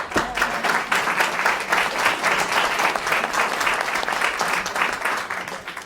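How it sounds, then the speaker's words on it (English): At a public meeting on cannabis dispensaries, a roomful of people applauds a speaker with steady, moderately loud clapping that carries on evenly from start to finish. "I think he deserves a round of applause"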